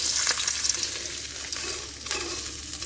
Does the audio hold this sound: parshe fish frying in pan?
yes